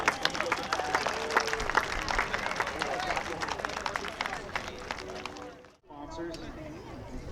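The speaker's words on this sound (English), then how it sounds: "How about a big round of applause for Tom Larkin?" Outdoor air show crowd at Marine Corps Air Station Cherry Point applauds after a SubSonex mini jet lands, with steady mid-distance clapping mixed with crowd babble and talk, then a brief dip before the noise resumes.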